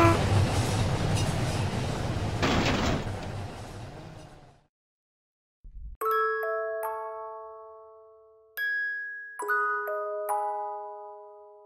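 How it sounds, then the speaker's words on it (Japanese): A train slams into the player's car in the My Summer Car driving game, a loud rumbling crash that cuts to silence, followed by a string of bright ringing tones. "まさか電車とジャストミートするなんてね"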